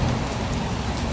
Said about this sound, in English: Look at that crazy rain.